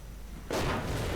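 Sudden burst of video game gunfire and explosions from a strafing run, cutting in abruptly halfway and staying loud and dense to the end.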